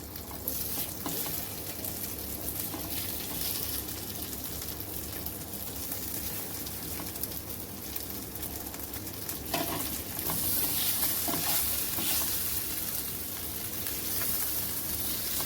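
Poha vadi pieces sauté gently in a pan over a low flame, giving a steady, close sizzle with soft stirring scrapes throughout and a slightly louder stretch near the end.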